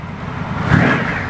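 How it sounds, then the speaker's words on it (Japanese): An Indian motorcycle's V-twin engine revs as the throttle opens, a loud, close, deep rumble that swells to a peak and then holds steady. "アイドリングしてる時のV ツインならではのこのずぶとい低音と、 アクセルを開けた時の駆け上がってくる"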